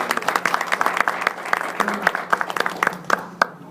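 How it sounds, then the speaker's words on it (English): Audience applause for military veterans standing in a room, a moderate burst of clapping with distinct individual claps close by, steady across the few seconds. "Let's give these gentlemen a round of applause."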